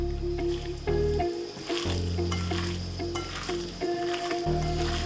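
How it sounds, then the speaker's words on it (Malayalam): Chicken pieces go into a hot oiled pan for chicken fried rice and sizzle loudly and steadily, with stirring and soft squishing as the meat is moved around, close up and with no talking. "ചിക്കൻ ആഡ് ചെയ്ത് കൊടുക്കുക."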